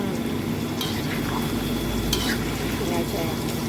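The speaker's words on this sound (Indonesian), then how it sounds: "Tempenya mau tak cemplungkan saja sekalian." Tempeh frying in hot oil gives a continuous crackling sizzle, with a couple of brief clinks of a utensil against the pan over the steady frying noise.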